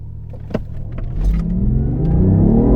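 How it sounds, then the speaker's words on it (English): A BMW i8 engine revs up from a low idle, its rising, growing roar climbing steadily in pitch and loudness, close by, after a few clicks. "I can hear the engine going now"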